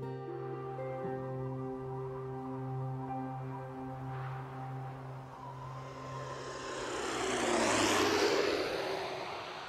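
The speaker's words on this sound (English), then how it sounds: "My plane touches down on a 4-mile-long, windswept strip of land known as Barter Island" Airplane touching down on the windswept Barter Island airstrip on the edge of the Beaufort Sea, a steady engine hum and whine building into a louder rushing roar toward the end.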